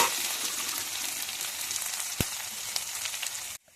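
Green chillies, garlic and ginger sizzle in hot oil with a steady, close, bright frying hiss that cuts off abruptly near the end, with no talking.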